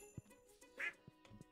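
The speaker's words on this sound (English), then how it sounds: "Quack, quack, indeed." A duck in the Stardew Valley farming game gives short, scattered quacks with small clicks and chimes of game effects between them.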